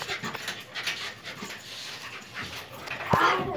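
A dog pants close by in quick, breathy bursts, ending with a brief high whimper.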